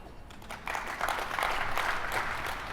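A keynote panel audience starts clapping softly, then builds to fuller, sustained applause from a crowd of many hands, with no voices over it.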